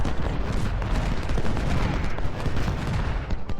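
Continuous musket volleys and artillery booms from a Civil War battle in Ultimate General: Civil War roll on without pause, a dense, loud crackling barrage with deep low rumbles throughout.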